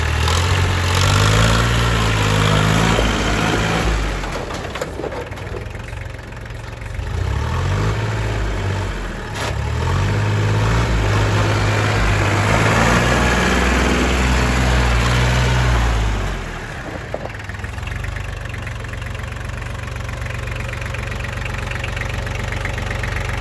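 A used Iseki TL 2501 tractor engine running close by, a loud low diesel throb that revs up and eases back in waves before settling to a steady idle.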